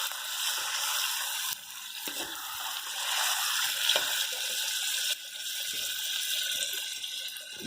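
Keema and potatoes being cooked down with yogurt in a pan for aloo keema, giving a steady watery sizzle and hiss with occasional stirring scrapes, close and continuous throughout.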